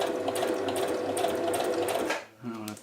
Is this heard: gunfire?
no